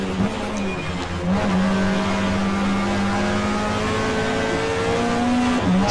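Peugeot race car in the GTR2 racing game at Mallala, engine droning steadily at high revs throughout with a sustained loud tone and slight pitch shifts as it holds speed, no talking.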